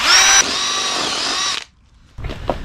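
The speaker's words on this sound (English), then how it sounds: "Stephen's managed to get the new drill bit in there." A power drill with a new bit whines at high speed for over a second while drilling a metal engine stand bracket, cuts off, then a short scraping clatter follows.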